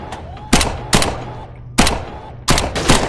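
Rapid bursts of submachine gun fire in the VR shooting game Gun Club VR, four loud, sharp volleys spaced unevenly with brief gaps between, close and punchy with a faint background hum.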